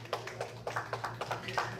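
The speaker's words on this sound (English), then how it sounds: "Let's give him a round of applause." Sparse applause from an audience at a Walk of Fame awards ceremony, a handful of distinct claps in an uneven rhythm, faint and close, over a low steady hum.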